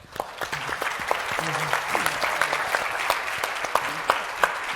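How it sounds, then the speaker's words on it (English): Audience applause at a youth arts program event, many hands clapping in a steady round that lasts the whole stretch, with scattered sharper claps and voices faintly mixed in. "join me in giving a round of applause to our Teen Arts in Action program youth"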